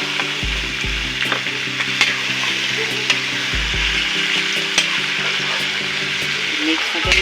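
Pork ribs stirred and fried in a wok for a Filipino kaldereta make a loud, continuous sizzle, with scraping utensil strokes and low thumps from the meat being tossed, close and constant throughout.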